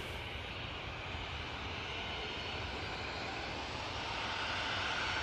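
A KLM Embraer E190 on approach from Amsterdam into Manchester Airport gives a continuous, fairly distant jet rumble and hiss that stays even and moderately quiet throughout, with no talking.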